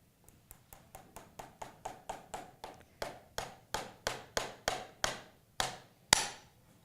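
A blacksmith hammers a nail, about twenty sharp metallic blows in an even rhythm that grow steadily louder and slightly slower, ending with one hard final strike, close and clear with no speech.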